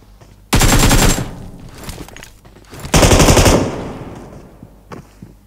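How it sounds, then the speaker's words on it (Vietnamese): Video game gunfire: two loud, close bursts of rapid automatic fire, each lasting about half a second, separated by quieter intermittent shots and game background noise. "Rồi ai bắn đây, đau quá khiếp"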